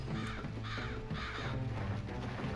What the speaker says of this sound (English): Hi, crows.